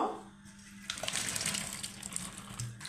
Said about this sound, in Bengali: তো আমি আরেকবার ধুয়ে নেব।